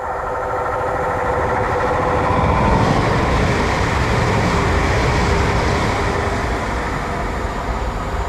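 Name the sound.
passing train from Shrewsbury to Birmingham New Street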